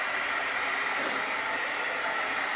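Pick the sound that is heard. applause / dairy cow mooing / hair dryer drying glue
hair dryer drying glue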